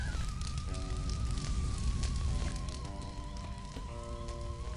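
A campfire burns in the Psychonauts video game with a steady crackling roar, joined by sustained tonal game music notes layered over the fire.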